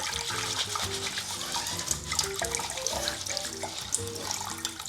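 Water from a kitchen tap runs steadily over grains being washed in a sink, a continuous close splashing rush that fills the whole stretch, with a faint background melody underneath.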